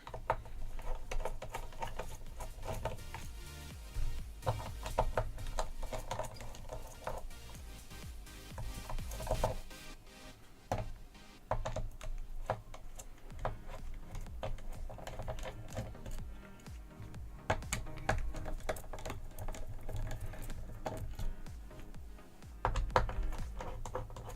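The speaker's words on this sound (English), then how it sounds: "Let's take out these screws first." A screwdriver backing screws out of a network switch from 2011, with close, irregular clicking and scraping of the bit and small metal handling noises continuing throughout.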